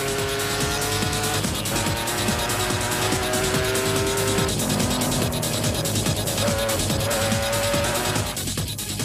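Toyota race cars competing in the 2008 Toyota 1000 Desert Race roar continuously at high revs, loud and close, with engine pitch rising and falling as they accelerate and shift. No voices are heard.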